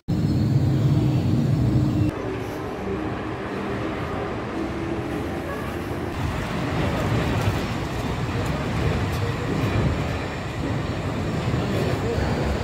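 A steady rumbling rush of a suspended monorail hanging from thin wheels on rails in Germany's Ruhr region, with a shift in tone partway through and a continuous mechanical hum throughout.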